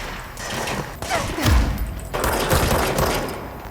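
Dense gunfire in the video game Control: rapid overlapping shots and bursts with heavy low booms, loud and continuous across the whole stretch over game ambience.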